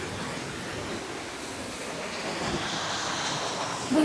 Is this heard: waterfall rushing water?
yes